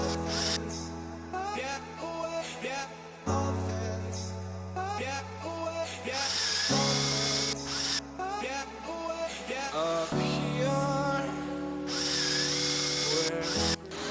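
Power drill boring through wooden rails clamped to the main body of a homemade climbing obstacle: a loud, steady whine in long stretches, stepping to new pitches as the bit works through each piece.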